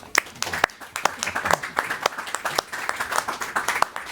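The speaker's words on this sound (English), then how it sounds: "And may I ask you to have another round of applause." An audience applauds a panel at a security and defence conference, with scattered clapping sustained at a steady level throughout and some sharper individual claps standing out.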